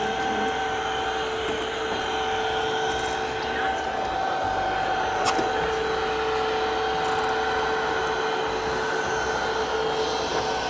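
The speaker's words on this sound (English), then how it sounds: "I want you guys to get a good idea of watching this machine clean in real time." An Ecovacs Winbot W3 Omni window-cleaning robot works across a very dirty window with a continuous whirring motor hum and a few short clicks and squeaks, while a voice talks over it.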